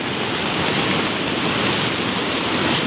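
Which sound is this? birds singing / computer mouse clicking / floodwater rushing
floodwater rushing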